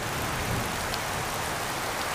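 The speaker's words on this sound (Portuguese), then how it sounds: "agora despencou a água" Heavy rain pours down steadily on a farm, a dense, constant hiss close by with no voices over it.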